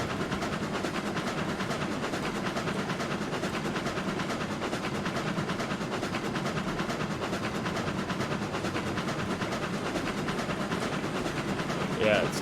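Freight locomotive in the RailRoads Online game hauling cars up a hill, a steady rumbling chug with constant rail clatter throughout, even and unbroken from start to finish, with no voices over it.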